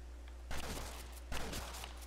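Two gunshots in the Red Dead Redemption zombie mode, each a sharp crack with a short ringing tail, about a second apart, fairly close over a steady low hum.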